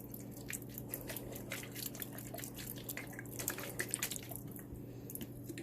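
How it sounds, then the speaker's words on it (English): Lime juice poured straight from a bottle without a drip stop, a soft, quiet trickle of liquid with small splashy drips and squishy wet sounds over a low hum. "Mine does not have a drip stop, it's just a pour, so I'm going to try to not put too much in."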